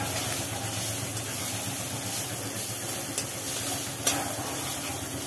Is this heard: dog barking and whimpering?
no